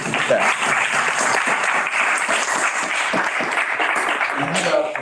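Sustained applause from graduates at a university commencement ceremony, a dense, even clapping that continues steadily throughout.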